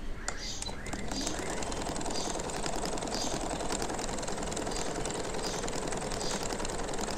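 A sewing machine stitches the side seams of a newborn baby shirt, a fast steady mechanical whir and rapid needle clatter running continuously at close range.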